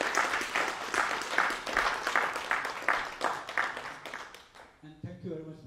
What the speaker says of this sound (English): At this point in time, a round of applause,